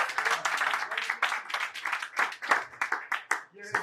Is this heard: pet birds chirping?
no